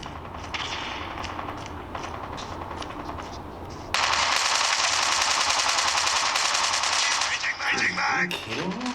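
Rapid automatic gunfire from Call of Duty played on a Razer Phone 2, loud and sustained bursts that grow denser after a few seconds, with sharp crackling shots and faint game effects in the background.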